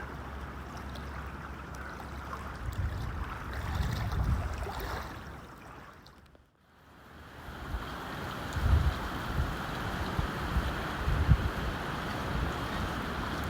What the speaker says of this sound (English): the wind is definitely making those waves lap in at my feet